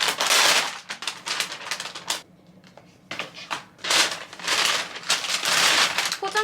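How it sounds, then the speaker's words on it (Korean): Wrapping paper on a birthday gift box is ripped open in loud, close crackling bursts of tearing and crinkling, with a short quieter pause in the middle; no voices. "다음으로는 이거 한번 뜯어볼게요"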